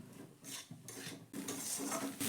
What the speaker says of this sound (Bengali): ডিমটাও খুব ভালো করে এখন আমি মিশিয়ে নেব।